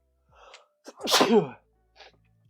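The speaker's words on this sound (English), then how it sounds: "Hang on, sneeze coming." A single loud sneeze with a sharp intake of breath before it, followed by a brief quiet exhale, in an otherwise silent room.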